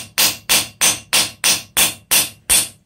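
Nine sharp metal hammer blows land at an even, quick rhythm close by, peening a through rivet down into the grooves of a mokume gane inlay on a hand-forged cross.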